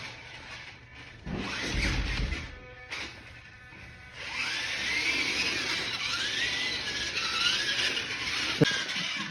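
Remote control Grave Digger monster truck's small electric motor whirring and whining as its wheels move, with squealing pitch changes, faint mechanical clicks and a brief bump near the start, no talk.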